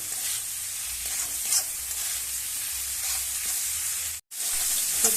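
Peas, carrots, capsicum and green chilies fry in a pan, a dense steady sizzle close up with occasional light stirring scrapes and a brief cut to silence near the end, no voices.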